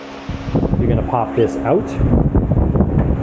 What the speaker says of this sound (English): And I apologize for the fan noise